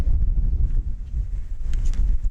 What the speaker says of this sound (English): it's still too windy